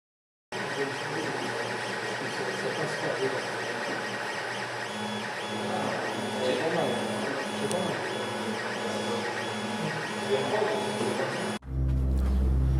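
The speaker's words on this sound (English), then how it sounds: "get this saved and get it across to the 3D printer and get it printed out" A 3D printer runs continuously while printing a bar model, its stepper motors whirring and buzzing in a steady mechanical drone that cuts off abruptly near the end.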